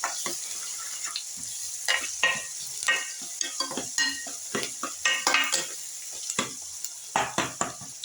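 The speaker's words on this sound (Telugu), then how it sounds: "రవ్వ ప్లస్ సంథింగ్ కొంచెం హోమ్మేడ్గా జింజర్ గార్లిక్ పేస్ట్ వేసేసుకొని బాగా కలిపేసుకోండి అన్నమాట" Semolina being stirred with homemade ginger garlic paste in a pan for upma, giving soft scraping and gentle sizzling in irregular bursts close up, with light clinks of a utensil against the pan and no talking.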